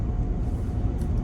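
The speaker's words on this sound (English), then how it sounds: "I'm at the car wash" A car wash hums along in the background, giving a steady, heavy low rumble of machinery with no distinct events and no talking over it.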